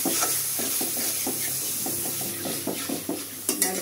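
Shapla (water lily stems) sautéed with coconut and onion paste in a pan, close sizzling broken by a quick series of spoon scrapes and taps against the pan, no talk.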